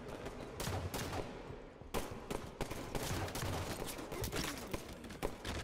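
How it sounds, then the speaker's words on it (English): Rapid gunfire in the Halo 5: Guardians SWAT mode, with dense overlapping bursts of automatic fire and single shots cracking continuously throughout, loud and close, with no talk over it. "I'm getting shot at."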